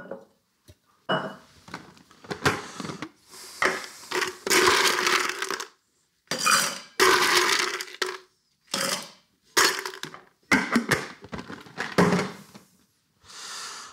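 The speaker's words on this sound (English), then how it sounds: "we're going to use our Boston shaker. And the first thing to do is to load it up with ice." Ice is scooped and dropped into a Boston cocktail shaker in a string of clattering, crunching bursts separated by short pauses, close up and fairly loud, with no voices.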